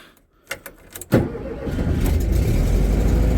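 A VW Beetle being prepared for a trial event cranks with the choke pulled, giving a few sharp starter bursts before the air-cooled engine catches at about one second and settles into a loud, steady idle close by.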